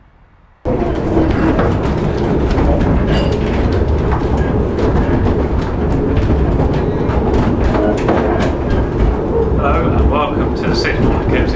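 Train on the Sittingbourne and Kemsley Light Railway rumbling steadily close by, with a continuous low roar and faint clicking over the rails after a short quiet start.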